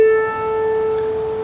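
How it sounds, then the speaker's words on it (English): Two notes forming a major sixth ring together in a jazz masterclass, a clear, sustained tone that starts firmly and holds evenly for about a second and a half, alone without speech. "here's the sound of the major sixth."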